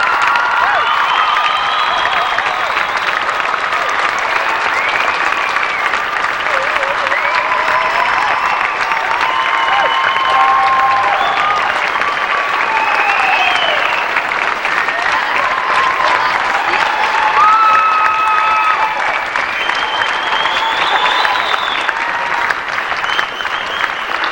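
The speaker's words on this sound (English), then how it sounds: "Let's give them an applause." Sustained loud applause with scattered cheers and whoops from a large audience at a state FFA leadership conference session in Iowa, steady and dense throughout.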